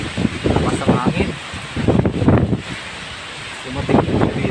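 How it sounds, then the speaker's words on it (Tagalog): Strong wind during Typhoon Paeng in Bicol roars and buffets the microphone in loud, surging gusts, with a steady rushing background, while a person speaks over it. "Lakas ang hangin."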